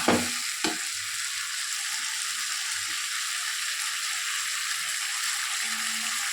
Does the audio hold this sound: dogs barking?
no